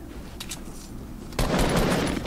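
Gunfire in Fortnite, a short burst of rapid shots that kicks in loudly partway through after a quieter stretch, with no talking.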